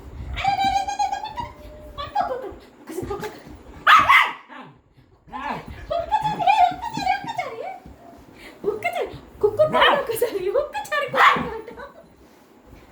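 A dog barks and yips in short bursts at close range, mixed in with people talking throughout.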